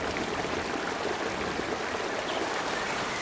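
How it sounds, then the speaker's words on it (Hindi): Floodwater rushing through a forest in a storm, a steady, dense broadband roar like a fast stream or heavy rain, loud and continuous throughout with no voices. "जैसे ही दोनों बाहर आ गई, घोंसला बाढ़ की पानी में बह गया।"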